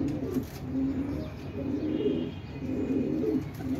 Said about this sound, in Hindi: सब उड़े उड़ाए अच्छे और नस्ली कबूतर हैं।